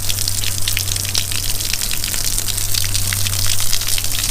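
Water flushes hard through a pipe under good pressure, a loud continuous gushing rush with a steady low hum beneath it and no speech.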